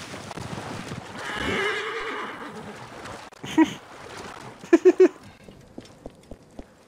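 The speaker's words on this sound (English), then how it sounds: "Come on, horses, get me out of here." Horses in Assassin's Creed Origins whinny in a few sharp bursts over a soft run of hoofbeats and splashing water, with a rising rush of motion and spaced thuds trailing off at the end.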